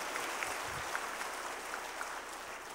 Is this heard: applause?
yes